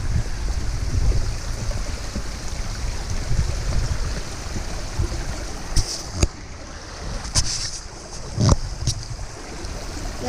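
Steady rushing water pours continuously through a small dam with a water wheel at close range, a broad loud wash with a few sharp clicks and knocks near the end.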